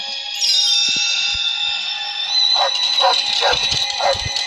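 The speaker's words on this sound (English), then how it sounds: "When Tramp heard Lady barking" A dog barks several times in quick short yips over a steady high-pitched background tone, fairly close.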